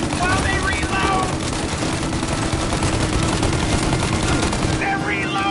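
Heavy gunfire in the 1930s gangster game Mafia: Definitive Edition, a loud continuous rattle of rapid automatic shots filling the whole stretch, with shouting voices over the din.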